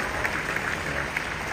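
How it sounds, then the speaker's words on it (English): Sustained applause from a big teachers' union delegates conference in Ghana honouring the President: a dense, even wash of many hands clapping at steady loudness, with no voices on top. "Round of applause for our President"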